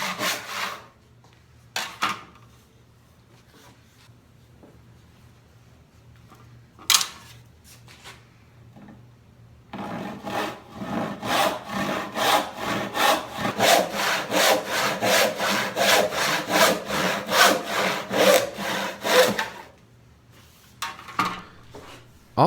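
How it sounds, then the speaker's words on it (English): Hand saw resawing a wooden board, first a few scattered knocks and scrapes, then a long run of steady rhythmic back-and-forth strokes, close and fairly loud, before stopping and a couple of final handling sounds; no talking. "my saw was binding because the board was under a little bit of tension"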